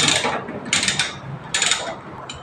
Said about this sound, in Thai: ใส่น็อตล็อกแบตนะครับ